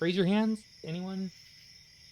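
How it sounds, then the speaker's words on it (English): A steady high insect-like chirping drone, like crickets, runs faintly behind a speaker's two short spoken phrases and continues alone afterward. "I thought I heard the crickets chirping just there."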